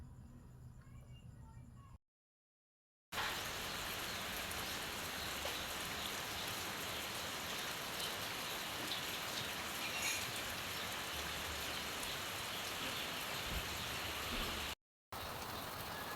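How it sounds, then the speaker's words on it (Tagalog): Steady rain pours down continuously, a dense even hiss of drops on surfaces, briefly cut by two short silent gaps. "It's rainy day."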